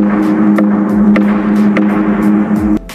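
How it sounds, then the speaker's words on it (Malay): A hanging stone gong in Gua Sireh cave, Baling, struck a few times, giving sharp taps over a steady ringing hum that fills the cave, loud and close, without speech. "Kalau kita ketuk gong ni bunyi sebiji macam gong."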